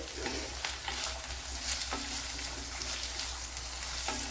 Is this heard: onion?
yes